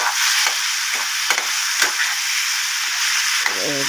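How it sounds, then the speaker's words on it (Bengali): Cumin seeds fry in a pan and are stirred, giving a loud, steady crackling sizzle with scraping strokes at a regular rhythm, close up and with no talk. "এবার জিরা দিলাম, ভালো করে কষিয়ে নিই।"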